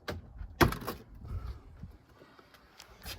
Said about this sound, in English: Can you open the door real quick?